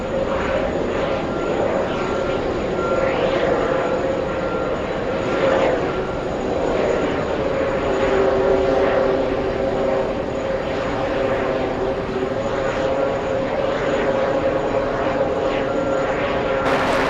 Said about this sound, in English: looks like we have the Lufthansa flight, the A340-300,